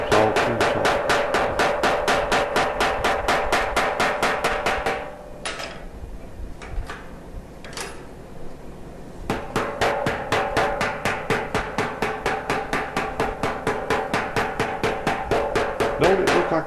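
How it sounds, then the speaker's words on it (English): A hammer strikes a metal pot being shaped by hand, the annealed metal softened by heat. Steady, rapid blows ring out loudly, pause for a few seconds of quieter handling, then resume in an even rhythm. "Don't it look like that hammer's sliding sideways every time I hit?"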